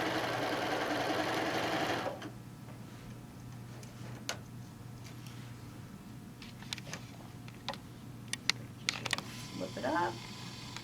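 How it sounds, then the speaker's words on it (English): A sewing machine top stitches the handles of a tote bag in one loud, close run for about two seconds, then stops, leaving faint clicks and handling sounds over a low background hum. "I'm going to top stitch the handles up"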